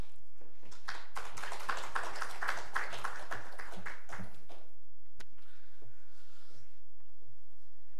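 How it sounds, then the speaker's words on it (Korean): Church congregation applause welcoming the pastor, a burst of dense clapping lasting about three seconds before thinning into a few scattered claps and quiet. "목사님 나오실 때 박수로 환영하겠습니다"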